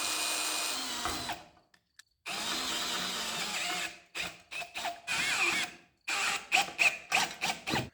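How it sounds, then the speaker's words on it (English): Power drill boring holes for a DIY tire remover, heard as several loud whirring bursts separated by short pauses, with a run of quick stop-start pulses toward the end. "When I was drilling the second one"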